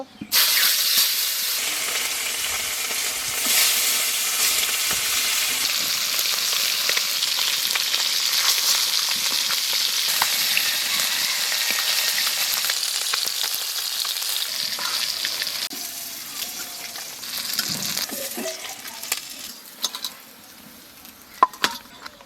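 Eel fish fry in a pan, cooked by a Santali grandmother, with a loud, steady hiss that gradually thins out, broken by a few clinks and scrapes toward the end.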